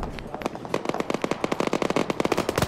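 PKT machine guns fire from a vehicle in a video game, a rapid string of sharp, loud bursts in quick, slightly uneven rhythm that keeps going, with faint talk in the background.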